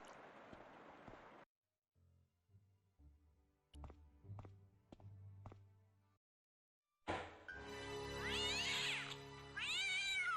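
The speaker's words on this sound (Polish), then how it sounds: "Wtedy też chyba kot uciekł." A cat meows in the Broken Sword: Shadow of the Templars video game. A few drawn-out, rising-and-falling meows come near the end, after quieter game ambience and soft low thuds.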